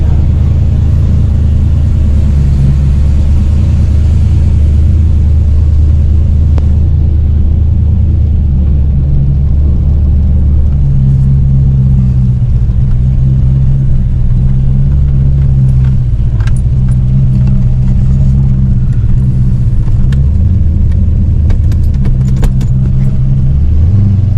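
A car just back from carburetor work rumbles loudly and steadily as it is driven on a spin, its engine droning low throughout with small shifts in pitch as it accelerates and eases off.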